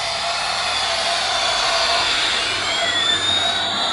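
Whooshing jet-engine roar mimicking an Airbus A380 passing over a toy world, steady and loud with a rising whine toward the end, no speech.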